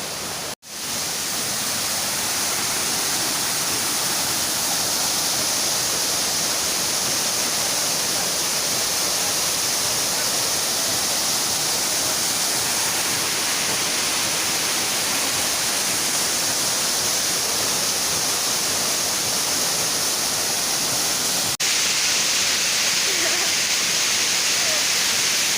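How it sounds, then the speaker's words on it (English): A waterfall at Oloolua nature trail in Karen roars as a loud, steady, close rush of falling water that fills the whole stretch without letup. "that's the sound of the waterfall."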